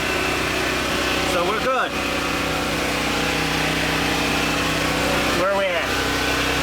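A portable generator engine runs steadily and loudly nearby while powering a 1998 Maytag Performa electric dryer, its constant drone continuing under brief talk.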